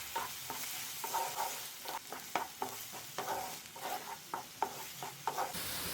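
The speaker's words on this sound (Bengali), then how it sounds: "অ্যাড করে দিচ্ছি মিহি কুচি করে কাটা একটি বড় সাইজের পেঁয়াজ আর 2 কোয়া রসুন। হালকা ফ্রাই করে নিচ্ছি।" Finely chopped onion and two cloves of garlic frying in hot oil in a pan, a close sizzle broken by frequent rhythmic scrapes and stirs of the spatula, with no voices.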